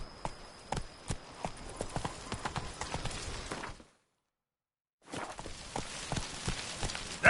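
The horse Roach in The Witcher 3 walks with a steady clip-clop of hooves, close and clear, broken by a second of total silence before the hoofbeats resume.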